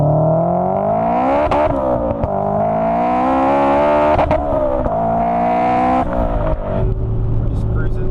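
A car engine with an open dump exhaust venting straight to the atmosphere revs hard under full throttle, its loud, droning note climbing steadily in pitch, briefly dipping between pulls, and staying close throughout.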